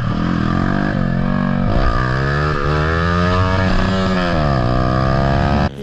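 A Honda CBR 125 motorcycle is ridden hard on a straight, its small engine buzzing loud and close with a steady high whine that dips and rises slightly with throttle changes.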